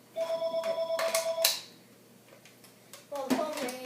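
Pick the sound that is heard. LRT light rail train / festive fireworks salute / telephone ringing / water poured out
telephone ringing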